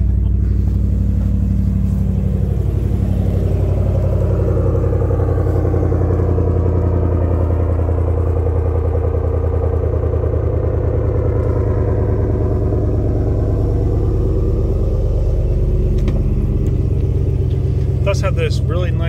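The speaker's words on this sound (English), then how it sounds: "Hear that exhaust." A 2023 Ram 1500 pickup truck's engine idles with a deep, steady rumbling exhaust drone that holds close and loud throughout, with no clear speech over it.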